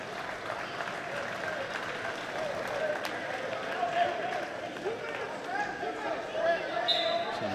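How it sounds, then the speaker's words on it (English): Light, scattered applause rises from the crowd at a high school wrestling meet in a gym, steady and moderate, while a commentator talks over it. "Some light applause from the crowd."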